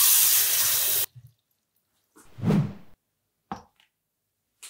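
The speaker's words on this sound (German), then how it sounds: "Für die Lake nehmen wir jetzt 1 Liter kaltes Wasser." Cold water for a ham-curing brine runs briefly from a tap in a loud rushing burst, then stops, followed by a sloshing splash and a couple of small knocks.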